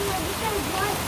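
Rain falls steadily, a dense, even hiss that fills the whole moment without a break.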